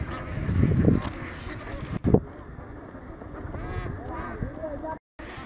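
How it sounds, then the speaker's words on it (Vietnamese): Ducks honk and quack at a duck seller's stall, with several short calls rising over steady background bustle while someone talks nearby. "Vịt nhiều luôn, to này mà."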